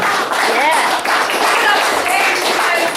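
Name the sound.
audience applause at open mic night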